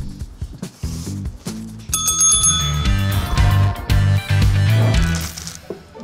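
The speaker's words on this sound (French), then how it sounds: "il y a un problème avec la cloche" A small bell, sounding like a bicycle bell, rings with bright repeated strikes through the middle of the clip over rhythmic thumping background sounds, with no talking.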